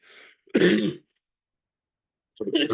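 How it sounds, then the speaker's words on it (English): A single throaty cough or throat clearing, loud and close, followed by silence and then another brief rough burst. "Sorry for the cough, folks."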